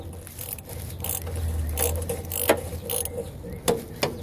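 A ratchet working a starter mounting bolt loose on a 1996 Chevy G30 van, close rapid clicking bursts with metallic scrapes and a few sharp knocks in between.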